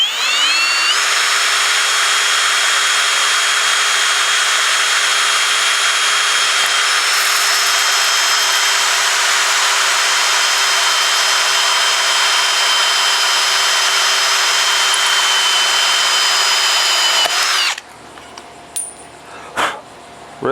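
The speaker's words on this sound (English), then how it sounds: "they're a thin wall hole saw for drilling through metal and stuff" A Milwaukee thin-wall hole saw on a power drill grinds steadily through metal for about seventeen seconds with a loud, high whine, then stops, leaving a few faint knocks.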